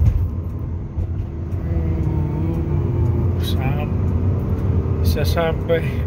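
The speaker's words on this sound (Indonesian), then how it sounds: "Terus yuk kita coba tes jalan awalan yuk. Wow, ini gigi duanya teman-teman." A 2000 Mitsubishi Galant V6 2.4 with manual gearbox pulls away in second gear on a test drive, a steady low engine and road rumble filling the cabin while people talk over it.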